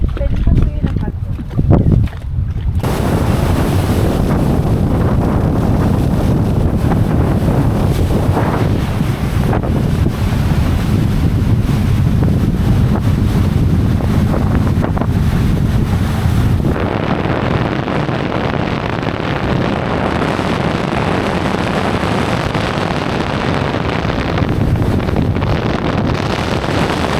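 A boat crossing strong, choppy waves in heavy wind on the way to Twin Lagoon in Coron, Palawan: loud continuous roaring wind noise and engine drone, with surges of water and spray, and voices partly heard beneath.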